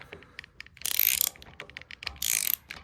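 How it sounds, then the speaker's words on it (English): A 17mm socket on a ratchet turns a Honda CT125 engine counterclockwise, giving two bursts of rapid, crisp ratchet clicking, each about half a second long, with quiet ticks between them and no talk. "So you're going to rotate the motor to the left"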